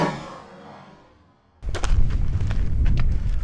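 A single sharp .380 pistol shot from a Bersa Firestorm fired into a bulletproof shirt bursts out loudly after a quiet lead-in, followed by a lingering outdoor rumble and echo.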